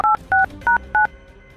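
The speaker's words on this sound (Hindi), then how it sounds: "मैं जल्दी सीआईडी को फोन करके बता देता हूँ" Four crisp telephone keypad tones beep in quick succession, each a short two-note dial tone with brief gaps, clear and close with no talking over them.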